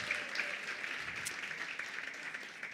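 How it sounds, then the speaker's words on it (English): Applause from a conference audience at a women's empowerment event in Gauteng, a steady, moderately distant patter of clapping that holds evenly throughout without cheering. "Round of applause just one more time."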